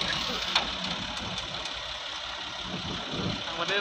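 A tractor engine runs with a steady rough, knocking idle, heard close while people talk over it.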